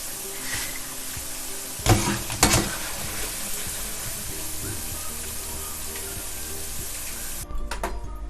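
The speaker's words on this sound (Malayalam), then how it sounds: "ഞാൻ കുറച്ച് കറിവേപ്പിലും കൂടി വറുത്ത് കോരി എൻ്റെ മേളിലിട്ട് കൊടുത്തു." Curry leaves fry in hot oil in a pan, giving a soft, continuous sizzle with a couple of sharper crackling bursts, heard up close and alone.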